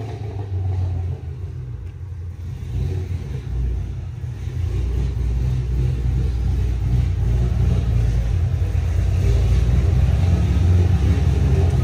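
A cammed 2005 Ford Mustang with a three-valve V8 runs on a dyno, its deep, loud rumble building steadily as the revs climb across the run.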